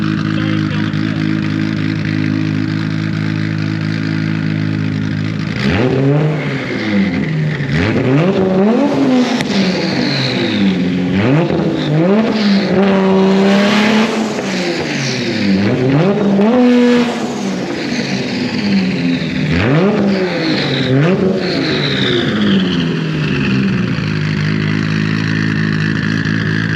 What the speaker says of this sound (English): Would you hold this while I rev it and just stand back there?